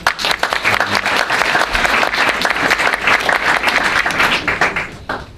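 Loud, close applause from the audience at a panel on Jewish day schools, many hands clapping briskly and evenly for several seconds before tapering off sharply near the end.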